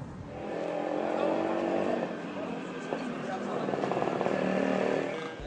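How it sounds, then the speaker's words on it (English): A car drives along nearby, its engine humming and rising steadily at moderate volume beneath continuous voices talking. "A car joins us."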